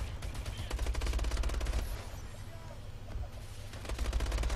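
Dense bursts of automatic gunfire from Call of Duty: Advanced Warfare, rapid loud rattling shots that keep going with heavy low-end rumble through nearly the whole stretch.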